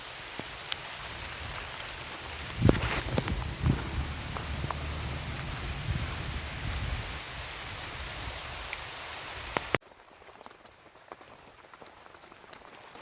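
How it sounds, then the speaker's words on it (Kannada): Heavy rain pours down in a steady, dense hiss outdoors, loud for most of the stretch before suddenly dropping to a quieter patter near the end. "ಮಳೆ ಜೋರಾಯಿತು"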